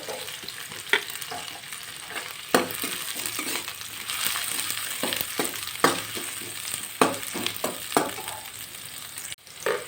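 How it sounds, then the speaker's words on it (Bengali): Chopped green chilli, carrot and capsicum sizzle steadily in a hot pan while a spatula stirs, scraping and tapping against the metal every second or two, close and continuous with no talking. "দিয়ে দিচ্ছি অল্প ক্যাপসিকাম কুচি এটুকু আমি অল্প নাড়িয়ে নেব"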